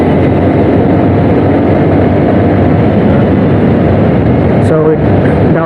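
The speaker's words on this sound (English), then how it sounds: "the exhaust note of this bike is awesome" A Honda Hornet 2.0 motorcycle runs with a steady, loud, gruff exhaust drone that stays constant and close throughout, with a brief tonal chirp near the end.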